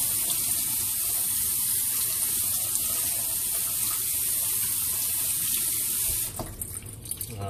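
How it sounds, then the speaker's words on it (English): Tap water runs steadily through a small strainer of quinoa for several seconds, a loud, close, continuous hiss and splash that cuts off near the end, with no voices. "I just dump my quinoa in here and rinse it off with water"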